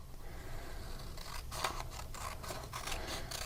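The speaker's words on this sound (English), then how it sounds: "You cut along the line." Scissors snip through paper along a folded line for a Minecraft pig bookmark, giving a quick series of crisp, close cuts over steady background hiss.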